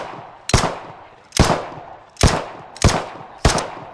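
Gunfire in a police shooter video game: five sharp, loud single shots spaced roughly a second apart, each with a short decaying tail, with no talking over them.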